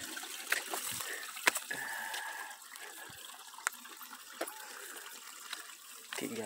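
Rainwater trickles and flows across ground at a farm in Bahia after heavy rain, a soft continuous running sound close by with a few sharper splashes scattered throughout.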